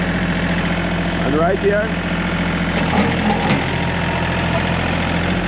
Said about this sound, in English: use my tractor and do some cutting too.